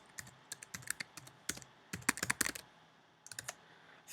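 Fingers typing an IP address on a computer keyboard, quiet close clicks in short irregular bursts with brief pauses between groups of keys.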